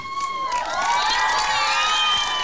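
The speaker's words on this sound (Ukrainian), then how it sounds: "Під ваші бурхливі оплески я вручаю Олексію медаль." A karaoke show crowd cheers and whoops loudly in a steady, dense roar of many voices, with clapping mixed into the din.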